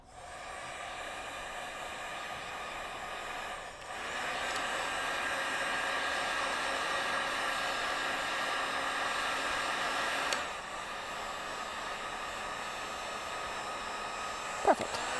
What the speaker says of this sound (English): this happens to be an industrial heat gun